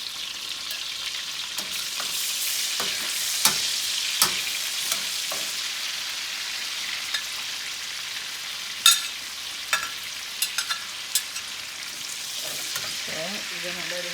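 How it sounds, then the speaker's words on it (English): Garlic and onions fry in a pan with a steady, close hiss that fills the whole stretch, broken now and then by sharp clicks and scrapes of a utensil stirring. No one speaks. "Okay, we're going to let it fry."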